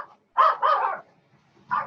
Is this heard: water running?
no